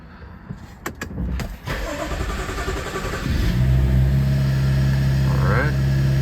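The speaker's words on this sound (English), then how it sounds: "I'm gonna start it right now and just double check, make sure there's no leaks, make sure everything runs right" A 2014 BMW 335 GT with a newly replaced valve cover, its engine cranking and catching, then settling into a loud, steady idle close by, with no voices.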